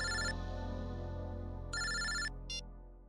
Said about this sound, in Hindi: एयरपोर्ट से फोन था